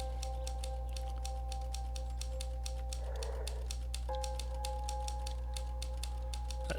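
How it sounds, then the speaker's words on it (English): Typewriter keys clacking in a steady rapid rhythm in the video game The Novelist, moderately close over a low constant hum, with no talking. "Oh, he's typing again."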